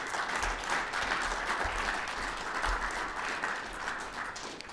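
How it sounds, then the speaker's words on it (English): An audience at a Marine Corps Association & Foundation logistics awards ceremony applauds its award recipients, a dense, steady wash of clapping held evenly for the whole stretch with a few low thumps underneath. "another round of applause, please, for all our award recipients"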